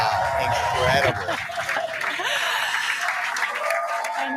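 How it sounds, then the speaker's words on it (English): A crowd at a Falcon 9 landing on Landing Zone 1 bursts into applause and cheering, loud at first and then settling into sustained clapping with scattered voices. "the crowd here is excited to see Falcon 9 touch down on landing zone 1"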